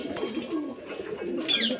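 Murshidabad Giribaz pigeons at a breeder's loft coo close and clear in soft, throaty rolling phrases, with a brighter chirp at the end.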